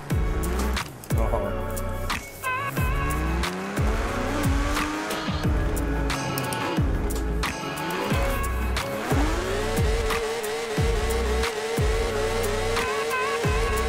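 A Porsche 911 GT3 RS in Forza Horizon 4 does donuts. The engine revs up and down repeatedly while the tires squeal almost nonstop, loud and close throughout.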